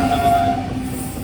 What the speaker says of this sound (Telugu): ఫస్ట్ క్రాసింగ్ అయితే గూడ్స్తో పడింది.